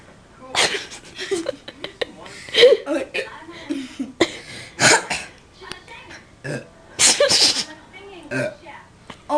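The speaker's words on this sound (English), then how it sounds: "burping, coughing, and hiccuping" Someone burps, coughs and hiccups in repeated short bursts at close range, with laughter and chatter from a few people in between.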